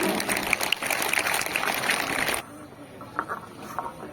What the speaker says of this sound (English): So to encourage with the clap children.